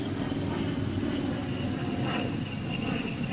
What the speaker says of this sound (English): You're establishing your glide about 120. lined up with the runway.